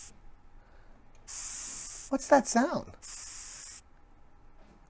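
A hissing cockroach held in the hand gives two sustained breathy hisses, close and fairly loud, with a brief burst of speech between them.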